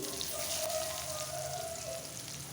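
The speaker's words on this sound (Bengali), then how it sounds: "পেঁয়াজ কুচি দিয়ে দিচ্ছি।" Chopped onion is added to hot oil already tempered with cumin seeds and bay leaf for a rohu fish curry, giving a steady, close, even sizzle and crackle throughout with no speech.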